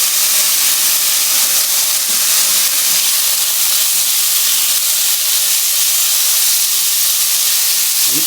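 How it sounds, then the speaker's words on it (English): Chicken fried rice sizzles loudly in a hot pan, a dense, continuous hiss and crackle that stays steady throughout without any talk. "Let that sizzle."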